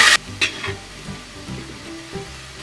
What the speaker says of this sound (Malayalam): ഇനി ഇതിൻ്റെ കൂടെ വെളുത്തുള്ളി ഇഞ്ചിയും കൂടെ ചേർത്ത് കൊടുക്കാം.